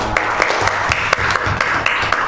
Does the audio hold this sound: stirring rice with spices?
no